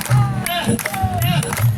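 Audience claps along at a bhajan kirtan, brief bursts of clapping mixed with crowd murmur and voices talking over it.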